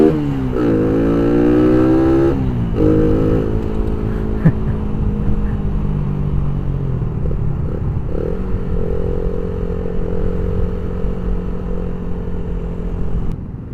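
A manual motorcycle rides through congested Saturday-night traffic, its engine droning loud and close with gear changes and shifting pitch, over a steady backdrop of surrounding vehicles.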